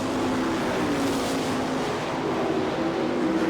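Sprint race cars of the All Star Circuit of Champions roar down the back straight at a dirt oval in Rossburg, Ohio, a loud, steady engine drone filling the whole clip with no talk.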